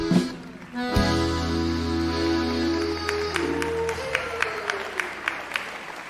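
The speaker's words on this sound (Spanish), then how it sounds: "Y los aplausos arriba" Steady rhythmic clapping from a group, keeping time over sustained music that plays throughout.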